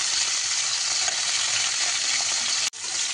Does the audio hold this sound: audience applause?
no